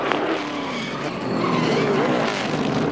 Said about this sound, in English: Left rear tire just blew out.